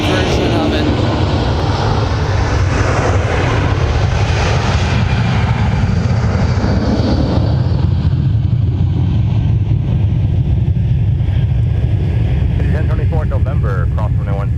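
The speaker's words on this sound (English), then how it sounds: "You got a thunderous departure of Delta 2809" A Delta Boeing 757-300 jet departing an airport roars loudly and steadily throughout, a thick low rumble that slowly fades, with a voice speaking over it.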